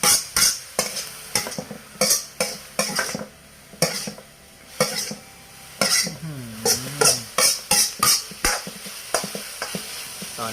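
Minced pork stir-fried for Isan-style larb, a spatula scraping and clattering against the pan in repeated sharp strokes over a steady close sizzle, with one brief rising and falling squeal midway.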